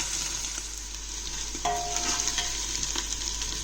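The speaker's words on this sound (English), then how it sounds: "I'm going to add the tomatoes now. Stir." Tomatoes going into a sizzling pan of spinach and chicken curry, a steady hiss of frying with a sharper splash partway through and soft stirring scrapes after.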